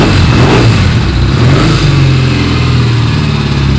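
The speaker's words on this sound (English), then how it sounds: "we want to hear what a British motorcycle sounds like" A British vertical twin motorcycle engine with a 360-degree crankshaft runs loud and close, a steady throbbing idle with a slight rise in revs, heard alone without any voices.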